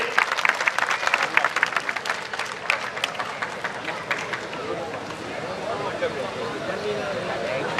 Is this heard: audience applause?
yes